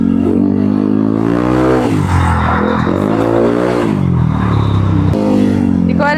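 A Honda ADV 160 scooter with a bolt-on CVT upgrade and remapped stock ECU revs loudly up and down nearby, its engine note rising and falling in several sweeps, with voices talking over it.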